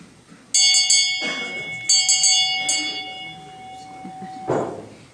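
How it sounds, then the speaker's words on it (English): The original Henderson School bell, rung for 70 years, clangs in a few loud, bright strokes with long ringing tones that decay between strikes, heard alone without talk. "That is the original school bell that rung for 70 years at Henderson School."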